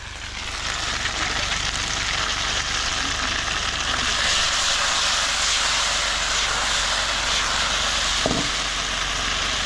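A loud, steady roar from an aircraft passing overhead, broad and continuous, swelling slightly as it nears and holding through the whole stretch, with no talking.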